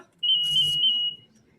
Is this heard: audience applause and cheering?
no